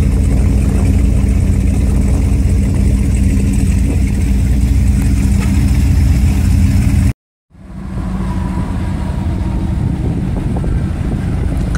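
Triple 502 engines idling aboard a 1995 Formula 419 boat sitting in the water, a loud, steady low rumble that drops out abruptly for a moment, then returns slightly quieter.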